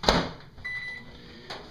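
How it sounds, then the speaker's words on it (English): Microwave oven running while heating plastic for making soft bass fishing lures, with a steady hum, a brief higher whine, and clicks or knocks at the start and near the end. "In the microwave for, we're going to try a minute and see how it looks."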